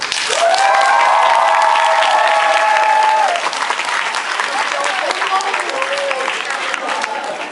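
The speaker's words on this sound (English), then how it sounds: "Let me just get a little survey by round of applause." A theatre crowd at a student improv comedy show during frosh week bursts into loud, sustained applause with cheering and whoops, then keeps clapping more steadily as a voice carries over the top.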